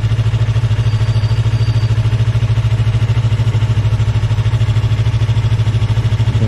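A motorcycle engine runs at a steady idle with an even, continuous low throb, close and fairly loud, with no revving and no voices.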